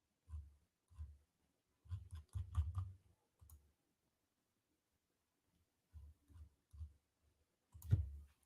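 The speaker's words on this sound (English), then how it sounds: "I was just typing something" Quick bursts of clicking keystrokes on a computer keyboard, coming in short clustered runs with pauses between them, close and fairly quiet with no one talking.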